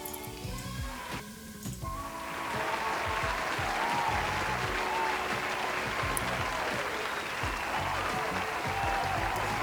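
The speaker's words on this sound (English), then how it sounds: "we give her a whole round of applause" An audience applauds a guest introduced on a podcast show, the clapping swelling after about two seconds into a dense, steady roar that holds loud to the end, with some talk and music faintly underneath at the start.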